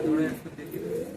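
Pigeons coo in a loft in Behala, Kolkata, with soft, close, repeated throaty calls running under a voice talking.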